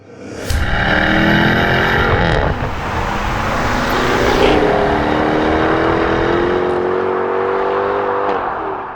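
A Jaguar F-Type P450's supercharged V8 engine roars close by, revving and rising in pitch as it accelerates, loud and continuous with no talking.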